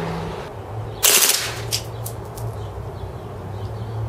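A Marushin M2 carbine airsoft gun fires a short, close burst of BBs, a sharp rapid rattle lasting a fraction of a second, followed by scattered faint clicks against a steady hum.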